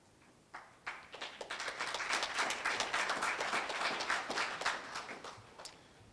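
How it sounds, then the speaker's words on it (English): Audience applause at a community and technical college GED graduation ceremony, clapping that starts sparse, swells into a steady burst of many hands, then tapers off. "you don't have to applaud yet"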